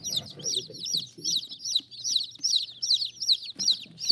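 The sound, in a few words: chickens and roosters clucking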